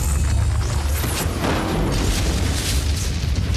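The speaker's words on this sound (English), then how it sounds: "EMP activated." Sombra's EMP ability detonating in Overwatch: a loud, sustained electronic boom with a rolling low rumble and bright crackling burst that swells and then holds steady for several seconds.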